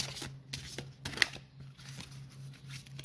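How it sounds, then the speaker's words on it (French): Oracle cards being shuffled by hand, a quiet series of soft riffling flicks and slides in an irregular rhythm, close up over a low steady hum, no talking. "ce que je fais, c'est que je mélange un petit moment"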